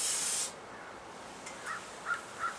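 An aerosol spray can lets out one short, sharp hiss of coating onto a DIY survival stove outdoors in the snow, followed by faint, soft thin sounds.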